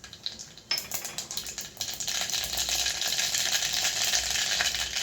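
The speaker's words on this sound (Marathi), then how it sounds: "इथे तेल तापलं आहे. हे पहा, तर मी आधी मोहरी टाकत आहे." Mustard seeds hit hot oil for a dahi kadhi, starting as scattered crackling before a sudden rise into a dense, continuous sizzle and rapid popping that stays loud and close, with no voices.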